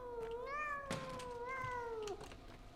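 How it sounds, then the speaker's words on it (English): A cat meowing in the video game Pathologic 2: two drawn-out, wavering meows, fairly clear and close, heard without talk. "I just heard a cat."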